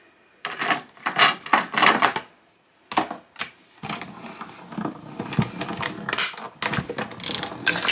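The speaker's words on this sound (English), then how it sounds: "using the Designer Tags die set, I'm going to take this big one and die cut this." Paper being die cut with a Designer Tags die set, a run of close clattering mechanical cranks and rattles in several bursts with brief pauses between.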